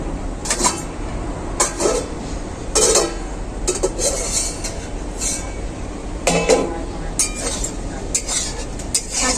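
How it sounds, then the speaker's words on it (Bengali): A metal lid is handled on a pot of boiling chalkumra (ash gourd) cooked with salt and turmeric, with a series of sharp clinks and clatters at irregular intervals over a low kitchen background. "এখন আমি ঢাকাটা খুলে দেখে নেবো"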